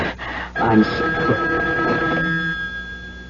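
A telephone rings in a radio drama with a bright, sustained electric bell tone lasting a few seconds, close by, while a voice speaks briefly over it.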